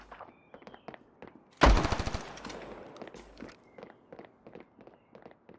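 An AK rifle in the mobile shooter Standoff 2 fires a sharp, loud burst of about eight rapid shots, preceded and followed by quick footstep-like game sounds and soft clicks.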